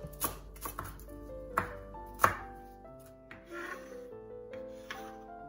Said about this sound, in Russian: Половину пучка петрушки нарезаем мелко.